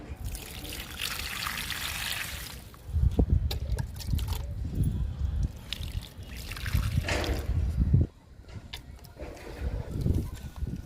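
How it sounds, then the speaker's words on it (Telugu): Water trickles and splashes steadily onto plant soil around newly planted Rhoeo cuttings in a few pours, with brief pauses between them, close and fairly loud. "వాటర్ పోస్తున్నాను."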